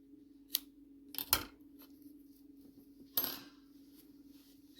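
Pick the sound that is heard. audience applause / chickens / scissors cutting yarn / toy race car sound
scissors cutting yarn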